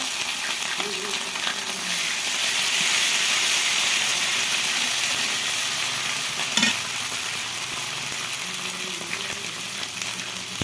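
Ginger, garlic and cumin paste sizzles with frying onions in a pan for a vegetarian curry, a steady loud hiss with occasional stirring scrapes and a sharp clatter near the middle.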